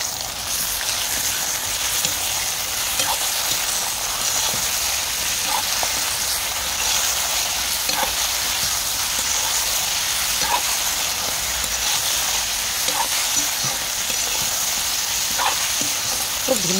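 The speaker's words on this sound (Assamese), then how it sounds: "মাংসখিনি দি দিছোঁ" Chicken pieces fry in oil in a village-style home kitchen, a loud continuous sizzle running throughout, broken now and then by soft stirring clicks and scrapes, with no talking.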